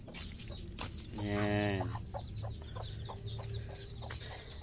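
Chickens cluck steadily nearby, with one hen letting out a drawn-out, rising cackle among repeated short clucks, and someone speaks briefly over the birds.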